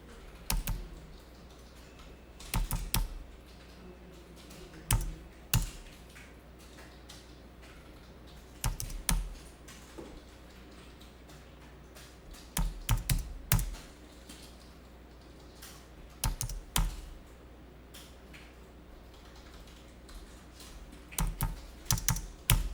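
Computer keyboard typing as accounting figures are entered, heard in short bursts of clicky keystrokes separated by pauses, with a few louder clusters of rapid key presses; no one speaks.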